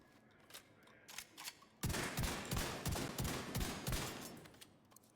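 Tsunami shotgun firing in The Division 2, a few faint pops at first, then a loud run of rapid, evenly spaced heavy blasts that keeps going to the end.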